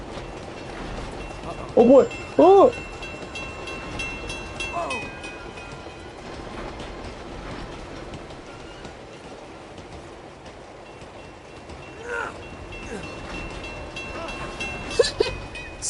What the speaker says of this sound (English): We're gonna run over by a train